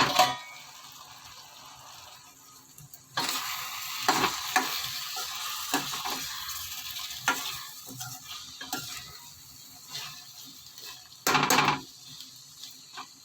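Egg mulakaya pulusu, a drumstick and egg curry, cooking in a pan on the stove, with a steady bubbling sizzle and occasional louder stirring scrapes of a spoon against the pan, close and continuous.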